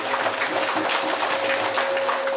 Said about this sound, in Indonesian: Mari kita tepuk tangan buat negeri ini ya